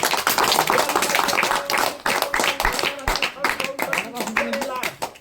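Audience clapping at a magic show, a brisk burst of many hands that carries on for several seconds under a voice and other sound, tapering off near the end.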